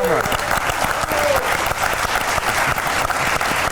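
A studio audience at a Georgian TV talk show claps loudly and steadily, dense applause close up that lasts the whole stretch, with a voice partly heard under it.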